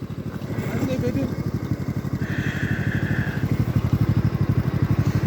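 A motorcycle engine chugs nearby with a rapid, regular pulsing rhythm that grows slightly stronger over time, and voices talk over it.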